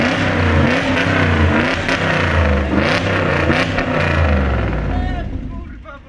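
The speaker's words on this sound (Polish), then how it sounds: "ale przygazuj trochę" A Unimog with a 4.2 V8 engine revs loudly close by, its pitch climbing and falling in repeated surges before easing off. A voice speaks over the engine.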